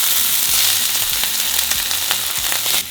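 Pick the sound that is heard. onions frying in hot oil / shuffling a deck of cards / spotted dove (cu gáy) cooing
onions frying in hot oil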